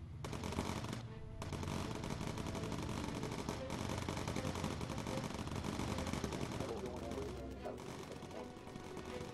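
Enemy aircraft cannon fire in the Bomber Crew World War II bomber game bursts in dense, rapid, continuous volleys, loud and sustained with only short breaks.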